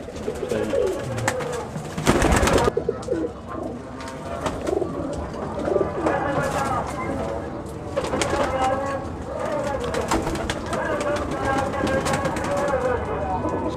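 Soft cooing of Indian pigeons repeats through the clip, layered among several birds, with a louder burst of noise early on and a voice talking now and then.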